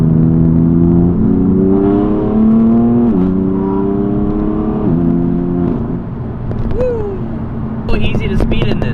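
A BMW M4 engine revs up through several gears, rising in pitch with each shift, then settles as tire and road noise take over, with a few clicks at the end.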